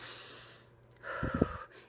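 A woman imitates the rapid, panicked breathing of an anxiety attack, a short burst of quick, close, forced breaths through the nose following a quieter lead-in.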